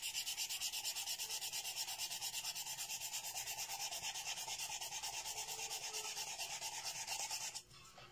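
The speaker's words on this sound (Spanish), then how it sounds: "se ayudan de una lijita y lo lijan los contornos" Fine sandpaper rubs back and forth along the edges of a small wooden craft piece, a steady rapid scratching rhythm close up that stops abruptly near the end.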